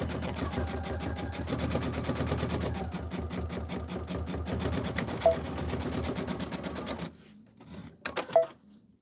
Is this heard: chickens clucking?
no